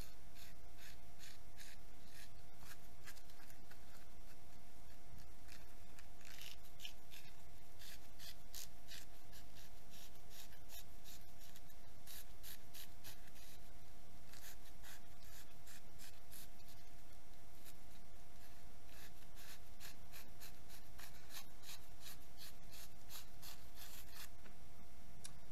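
Steady, rhythmic scratchy rubbing strokes of fine sandpaper sanding a Yamaha F90 outboard motor starter by hand, repeated in quick clusters, with a faint constant hum in the background.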